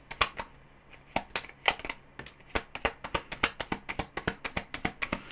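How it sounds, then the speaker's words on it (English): Tarot cards riffle and shuffle in a quick run of crisp, papery snaps, close and fairly quiet, with no voices, the slaps falling in an uneven but steady rhythm. "I had to slow down with the shuffling there"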